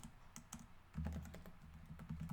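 Keys clicking in bursts on a computer keyboard while a camera-usage description is typed into an Xcode project, close and fairly quiet, with no voice over it.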